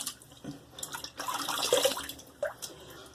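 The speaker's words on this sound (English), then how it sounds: "let me rinse this." Tap water runs and splashes as a straight razor is rinsed under it, a steady close wash with brief splashy bursts and drips, no talking.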